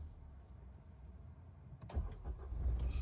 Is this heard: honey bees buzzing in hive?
no